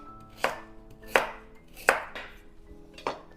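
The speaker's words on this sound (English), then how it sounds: "Next, I'm just chopping these carrots into some big chunks" A knife chops carrots into big chunks on a cutting board for a Portuguese vegetable soup, four sharp, evenly spaced thuds about a second apart with a faint ringing hum between them.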